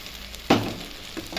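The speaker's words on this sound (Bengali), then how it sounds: "সয়াবিন ভাজাগুলো দিয়ে দিচ্ছি" Fried soybean chunks dropped into a hot pan of sizzling masala, a sudden close burst of sizzle that fades quickly, followed by a smaller scrape.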